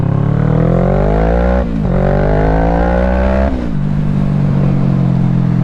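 A motorcycle engine revs loudly on a winter ride in Spokane, rising in pitch through two gear changes with brief dips between, a close, continuous roar and no voices.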